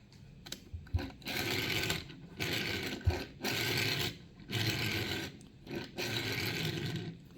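A small die-cast Hot Wheels Toyota Tacoma toy truck rolled back and forth across a surface, giving several bursts of close, buzzing rolling rumble with a wobbling wheel, separated by short pauses.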